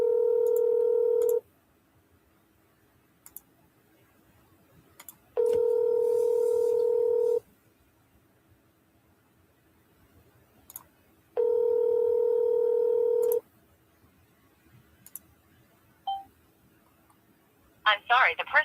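A telephone call rings out in three long, steady tones separated by silent gaps, with faint clicks between them, before a brief voice and a burst of line noise at the end.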